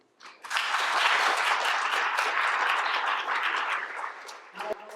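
Audience members at an all-candidates environmental forum in Coquitlam break into applause that starts abruptly, stays full and even for about four seconds, then fades out, with a brief voice at the close.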